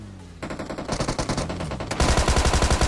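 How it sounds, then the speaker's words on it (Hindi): Automatic gunfire from a Thompson in PUBG Mobile rattles in a fast, steady burst that grows louder and denser partway through, close and continuous with no talking. "अब यहाँ पे चर्च के ऊपर से फायरिंग चल रही है"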